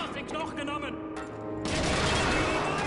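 Scripted enemy gunfire rattles in Call of Duty 2 as rapid bursts aimed at a pipe. The fire begins faint under a voice, then swells into a dense, continuous volley.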